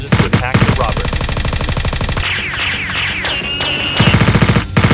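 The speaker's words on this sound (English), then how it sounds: "the 2 robbers inside seem startled by the gunfire and come out" Toy Nerf guns fire rapid, dense volleys during a staged fight between SWAT players and robbers, loud and close, with bursts at the start and end around a middle stretch of squeaky, whistling tones.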